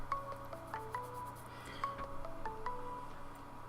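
A Google Hangouts call rings with a short melodic chime that repeats twice, played fairly quietly over a steady low background hum.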